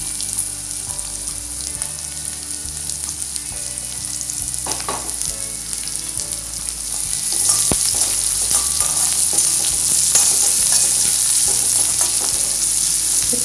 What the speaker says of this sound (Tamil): கண்ணாடி பதம் வர வரைக்கும் வதங்கட்டும்.